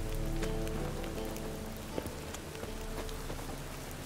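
Heavy rain pours down in the video game The Witcher 3, a dense continuous downpour patter with a faint low hum beneath it.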